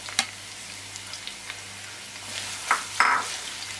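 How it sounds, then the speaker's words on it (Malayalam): Sliced onions dropped into a hot pan already used for frying soya chunks, giving a soft crackling sizzle with a few louder spits, close and fairly quiet over a steady low hum. "നമ്മൾ സോയാബോൾ വറുത്ത ആ പാത്രത്തിലേക്ക് തന്നെയാണ് നമ്മൾ ഇത് ഈ സവാള ഇട്ട് കൊടുക്കുന്നത്"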